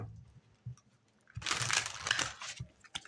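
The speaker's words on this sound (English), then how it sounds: "Do one more shuffle for you." Crisp papery shuffling of tarot cards, a brief riffle and rustle lasting over a second, close by, with a few soft taps before and after.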